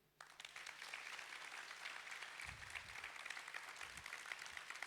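Audience applause at a spiritual training camp session in Nikora, Gujarat: a steady patter of many hands clapping, fairly faint and distant, starting abruptly and continuing evenly for several seconds with a couple of low thumps.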